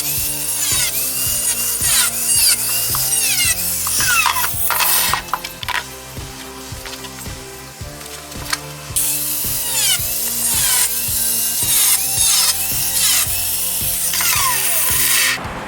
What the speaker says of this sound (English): Now I'm going to cut these spots on both sides.